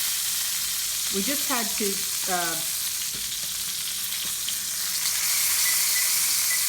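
Chicken pieces sear in a hot pan with a steady close sizzle, while a person speaks briefly over the frying.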